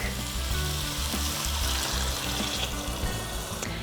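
Mussels sizzling and crackling in a pan of green curry with onions, a busy bright frying hiss with faint stirring clatter, close up and without talk.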